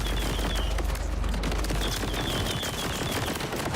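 Loud, sustained automatic gunfire in the video game Borderlands, a dense continuous roar of rapid shots filling the whole stretch with no talking.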